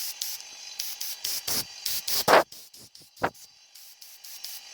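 A homemade DIY airbrush spraying paint, short bursts of soft hissing that start and stop repeatedly, close by and quiet, with no voices.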